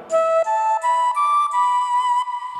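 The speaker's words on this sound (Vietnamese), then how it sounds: "Rồi tiếp theo đó là tiếng sáo." A flute voice on a Yamaha keyboard plays a short stepwise melody of sustained breathy notes, each held briefly and rising in pitch, close and alone.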